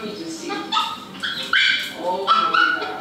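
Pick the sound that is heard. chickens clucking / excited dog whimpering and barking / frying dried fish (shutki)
excited dog whimpering and barking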